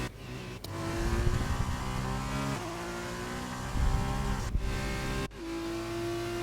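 Race car engines rev and whine continuously in a Belgium race of a racing video game, loud and sustained with pitch rising and falling through gear changes and brief dips between bursts.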